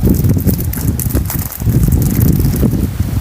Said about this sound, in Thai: นี่ ลมพัดเย็นเลยครับ